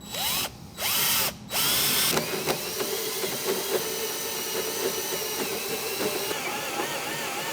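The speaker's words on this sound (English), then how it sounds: "If you haven't used a hole saw before, they can catch and be kind of difficult to manage." A hole saw cuts through metal while fitting rocker and corner guards on a Jeep LJ. Two short whirring bursts come first, then a sustained close, loud grinding drill whine with rattling chatter as the teeth bite and catch.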